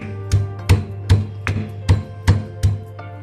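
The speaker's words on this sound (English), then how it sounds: "Next we need to crush the ginger too using the stone pestle" Ginger crushed with a stone pestle for green grape wine, seven evenly spaced dull pounding thuds in a steady rhythm, close and fairly loud, with no talking.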